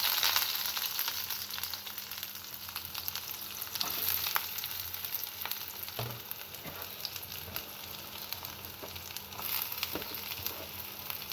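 Onions and dried red chillies fry in mustard oil, a steady dense sizzle and crackle running unbroken from start to finish, with occasional soft scraping and stirring clicks close by.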